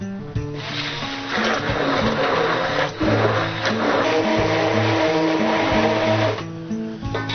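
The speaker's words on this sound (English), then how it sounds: "You can use a blender. I have a burr mixer." A hand-held burr mixer whirs steadily as it blends chunky tomato gazpacho, its motor tone shifting slightly with pauses and changes in pressure.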